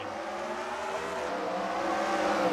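Race cars in a sim racing game rev up through the gears as a pack, engine pitches climbing together in a steady, droning roar.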